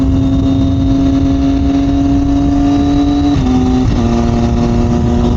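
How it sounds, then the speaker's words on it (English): A 2021 Triumph Daytona 765 Moto2 motorcycle accelerating hard with quick shifts. Loud, close, steady engine drone that climbs in pitch, then briefly drops at each upshift with almost no gap before pulling again. "I love this quick shift. Triumph's got one of the best quick shifters."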